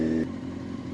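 A Honda CBR600 motorcycle with an electrical fault idles steadily at close range, a smooth low engine drone with a brief higher tone at the start, no voices over it.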